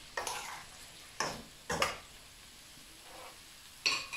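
Chicken stirred into vegetables in a pan, a few separate scraping, clattering stirs spaced out over a few seconds, moderately close with a quiet background.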